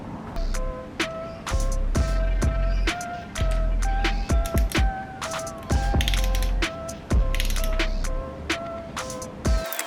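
Ratchet wrench with a 12-point deep socket turning the head stud nuts on a Daihatsu Mira EJ-DE 1-litre three-cylinder engine, heard as repeated bursts of close metallic clicking separated by short pauses, with sharp clanks of tool on metal between them.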